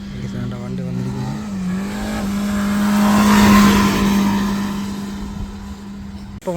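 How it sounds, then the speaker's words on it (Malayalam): A rally car runs on the sand track of a beach rally event at Azhikode beach, Thrissur, its engine drone holding steady and swelling louder as it nears, then fading away. "വണ്ടി വന്നിരിക്കുന്നു."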